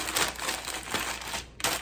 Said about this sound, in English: we're just gonna wad up, crumple it up, really loosely